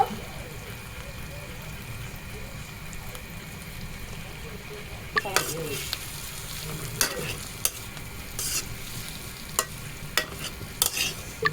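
Meat and tomatoes stirred and frying in a pan for soup noodles, a steady low sizzle with sharper scraping clicks of a utensil in the second half, under continuous background talk.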